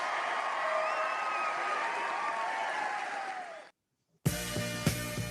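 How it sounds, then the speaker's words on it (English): A festival audience at an entrepreneur pitch event cheers and applauds loudly and continuously for several seconds, with whoops rising over the clapping before it cuts away to music. "Crowd cheering."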